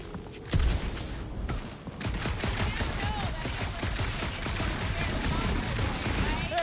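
Rapid, sustained gunfire rattles in the game Marvel's Guardians of the Galaxy, a dense stream of shots after a sharp opening blast, with voices talking over it.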